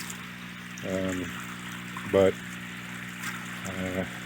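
Water trickles and pours steadily back into a tilapia tank with duckweed, a continuous gentle flow in the background beneath a few short bursts of someone speaking.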